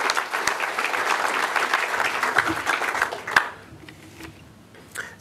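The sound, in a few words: audience applause at an open source awards ceremony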